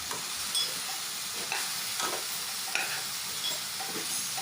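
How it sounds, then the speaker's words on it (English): Steady sizzling of vegetables frying in a pan, with occasional scraping stirs every second or so, close by and moderately quiet. "Stir it well and let it fry for a bit."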